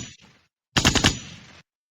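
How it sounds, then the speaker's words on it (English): A rapid burst of several sharp gunshots cracks out loud and close, preceded by faint talk, then trails into a short echoing decay before silence. "Those are gunshots."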